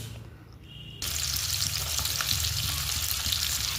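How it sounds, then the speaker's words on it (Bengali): Onions hitting hot oil in a wok, starting with a quiet moment and then a sudden loud, steady sizzle that holds to the end. "প্রথমে তো কড়াইতে তেল পেঁয়াজ দিয়ে দিলাম"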